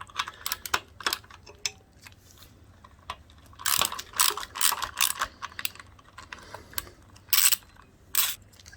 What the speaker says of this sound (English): we have to remove these acorn nuts with a 10mm